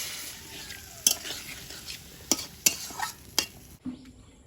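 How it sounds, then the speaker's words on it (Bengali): Prawns sautéed with spices in a pan sizzle softly and steadily while a spatula scrapes and clicks against the metal in several sharp, spaced strokes, close up with no talk. "চিংড়িটা আলাদা করে অনেকেই ভেজে নেয় আমি একটু আলাদাভাবে করছি একবারে মশলার সঙ্গে কষিয়ে নিচ্ছি"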